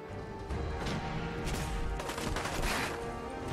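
Laser musket shots and gunfire in the video game Fallout 4, dense and continuous bursts with crashing impacts throughout, loud and close in a busy combat mix.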